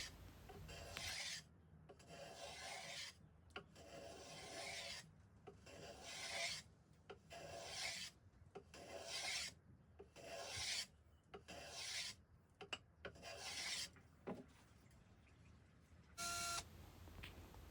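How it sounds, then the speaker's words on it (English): A small block plane chamfers the front edge of a scrap wood knife block in repeated rasping strokes, about a dozen close, crisp passes separated by brief pauses. "With a small block plane, I'm just putting a chamfer on the front edge."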